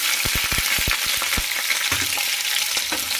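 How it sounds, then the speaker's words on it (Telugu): Shahi jeera (caraway) seeds dropped into well-heated oil, giving a loud, steady sizzle with a quick burst of sharp crackles and pops at the start, then spitting continuing over the hiss. "ఆయిల్ బాగా హీట్ అయింది. సో నేను ఇప్పుడు ఇందులో సాజీరా వేసుకుంటున్నాను."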